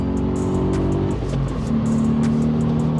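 A VW Up GTI accelerates hard, its engine and exhaust note climbing in pitch, dipping briefly at a gear change, then rising again, loud and close from inside the small car.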